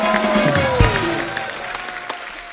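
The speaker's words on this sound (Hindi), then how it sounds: "जोरदार तालियां" Studio audience applause at a Kapil comedy and singing show, a steady wash of clapping with a tonal sweep from music or effects running through it.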